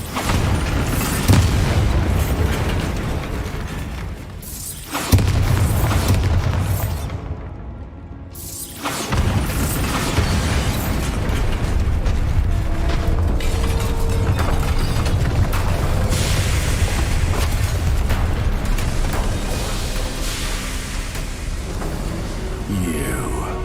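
Heavy booming blasts and whooshing magical bursts from the Bombarda spell in Hogwarts Legacy, with a sharp cutoff to near silence mid-way before dense rumbling game effects return and continue loudly.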